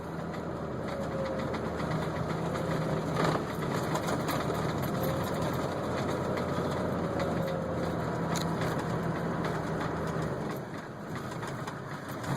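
Vehicle engine held in low gear on a woods road, a steady droning rumble with rattling vibration, continuous and close, easing slightly near the end.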